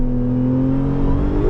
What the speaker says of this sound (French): on va se faire un petit launch control